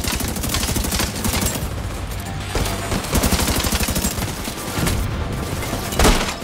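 Heavy gunfire from The Division 2 as a player shoots at an enemy's backpack, with rapid automatic bursts rattling almost nonstop, loud and close, and a few louder impacts toward the end.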